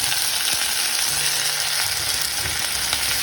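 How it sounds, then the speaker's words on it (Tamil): Vegetables and beans sauté in a pan for vegetable biryani, giving a steady close hiss of frying with occasional light stirring scrapes and no voices. "அந்த ஸ்மெல்லாம் போகணுன்னா கொஞ்ச நேரம் நீங்கள் இது மாதிரி வதக்கணும்"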